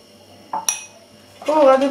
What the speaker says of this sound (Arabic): من بعد ما طربت البيض والزيت وقبيصه ديال الملح والسنيده